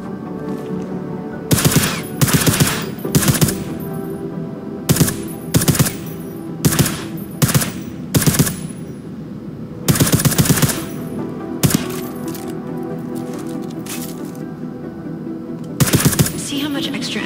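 Silenced gunfire in the video game Deus Ex: Mankind Divided, coming as short broadband bursts of rapid suppressed shots in repeated clusters over a steady game background, loud and close, with no talk.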